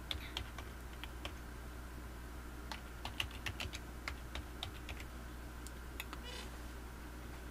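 Fingers type a username and password on the keyboard of a 2011 laptop, producing quick irregular clicks, close and fairly soft, over a low steady hum with no talking.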